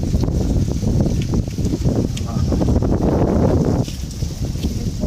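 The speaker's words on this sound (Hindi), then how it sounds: "ये देखें कितनी तेज़ हवा चल रही है" Strong wind roars and buffets a nearby microphone without a break in a village storm after rain, with gusts swelling and easing over a constant rushing noise.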